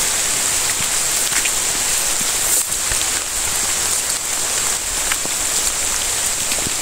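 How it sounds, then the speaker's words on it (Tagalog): Heavy, steady rain pours down in a dense, loud hiss that never lets up, with occasional louder drops landing on a nearby surface. "Sobrang lakas ng ulan mga idol"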